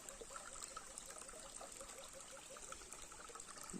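A small, weakened stream of water trickles steadily at Pagsanghan Falls, a continuous soft babbling and dribbling close by with no talk over it.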